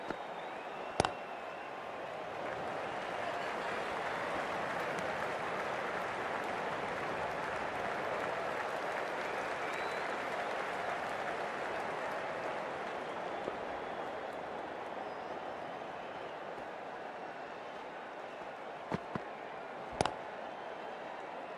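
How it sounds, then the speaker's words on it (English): Cricket crowd at a women's Hundred match between Oval Invincibles and Birmingham Phoenix applauding in a long, steady wash of distant clapping that holds at an even level, with a few sharp knocks near the start and end. "Please give her a round of applause."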